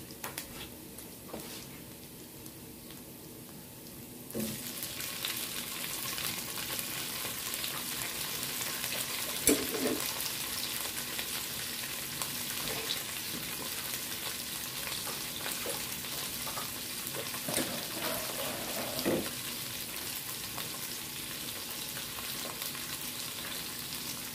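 Tomatoes sautéing in a pan for a mung bean dish: a loud, steady sizzle that swells abruptly after a few seconds as they hit the hot oil, with occasional stirring clinks throughout.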